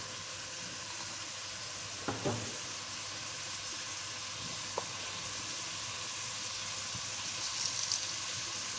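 A spoonful of cumin seeds sizzles steadily in hot oil, a quiet continuous hiss with a couple of brief clinks from a spoon.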